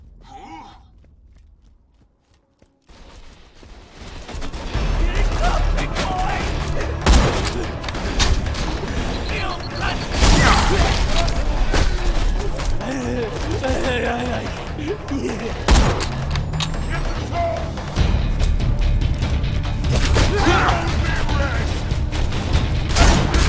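Enemies open fire on the player in Borderlands 2, dense bursts of gunfire and booms rattling continuously after a quiet opening, loud and close, with a man's groans and brief talk mixed in.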